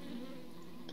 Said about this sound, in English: Ooh, beehive.